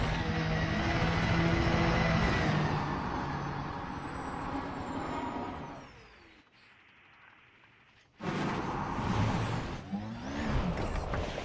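A rover's handbrake engages in the Elite Dangerous video game: a loud, steady mechanical hiss cuts out into near silence for about two seconds, then bursts back on.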